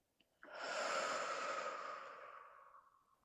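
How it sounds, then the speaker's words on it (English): One long, slow exhale in a guided meditation, a breathy sigh that swells quickly and tapers gently over about three seconds, close and alone without any voice. "breathe out,"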